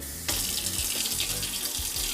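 Water gushes from a sensor-activated kitchen faucet into a sink, starting abruptly and running steadily and close with a bright splashing hiss.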